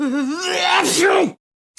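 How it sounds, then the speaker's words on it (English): A single exaggerated, drawn-out sneeze voiced by a person, rising into a sharp burst before cutting to silence. "let out an almighty sneeze"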